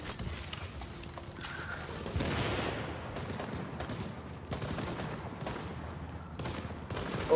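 Repeated gunshots crack in a video game, arriving in scattered bursts over a steady rumble of in-game noise, moderately loud with no voices over them.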